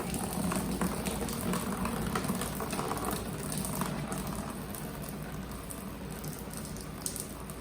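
Coolant drains from the radiator of a 1984 Porsche 944, a steady bubbling trickle of liquid pattering onto a surface with faint clicks, continuous and fairly quiet.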